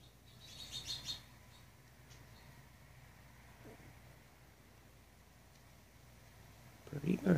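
A baby American robin on a fall day in Nebraska gives a brief burst of high chirps near the start, then stays faint under a person's voice talking nearby.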